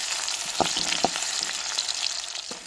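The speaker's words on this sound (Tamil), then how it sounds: "வெட்டி வச்ச வெங்காயத்தையும் சேர்த்துக்கிறோம் ரெண்டு கருவேப்பிலை போட்டுக்கிறோம் வெங்காயம் நல்லா வதங்கி வரட்டும்" Chopped onions and curry leaves sauté in oil for okra rice, a close, steady crackling sizzle broken by a few soft spoon knocks.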